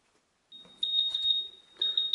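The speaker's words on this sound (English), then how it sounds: "our timer is going off on the oven" An oven timer alarm goes off in a home kitchen while fried rice is being made. After a short silence it gives a steady high-pitched electronic tone that breaks off and then resumes, with faint background noise underneath.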